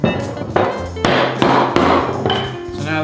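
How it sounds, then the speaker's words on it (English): A hammer drives a metal holdfast into a hole in a wooden workbench top, delivering about six sharp, close whacks in an uneven rhythm, each ringing briefly before the next blow. "You put it through a hole in your table, and you just give it a couple whacks."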